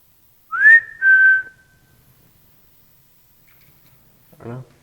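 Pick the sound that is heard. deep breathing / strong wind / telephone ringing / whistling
whistling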